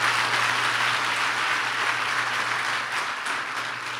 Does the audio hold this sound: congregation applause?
yes